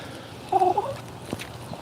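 A chicken lets out a short burst of close, throaty clucking, heard alone against faint background noise.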